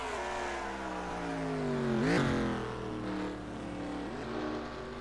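Rally cars, a Subaru Impreza and a Citroen Xsara, race in a video game on a Mexico City circuit, their engines droning and shifting pitch as one rises and passes close at the midpoint.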